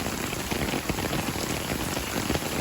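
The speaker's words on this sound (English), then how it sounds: "it's downpouring" A heavy downpour drums steadily on surfaces outdoors beside a grill, a dense, close patter of rain that stays even throughout with no talking.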